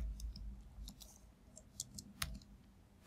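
Quiet keystrokes on a computer keyboard come in a few scattered clicks close by, with a couple of crisper taps near the end against a faint low hum.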